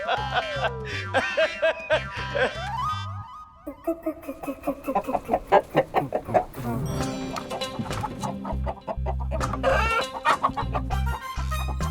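Hen clucking in a comedy TV court scene, with repeated sharp clucks and squawks over a busy music score, close and fairly loud, mixed among bursts of frantic activity.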